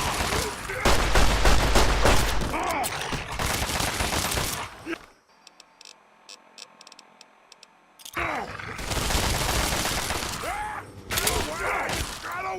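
Heavy gunfire in the Fallout TTW video game, dense loud bursts of shots with cracking impacts, broken by a few seconds of near silence with faint ticks before the shooting resumes.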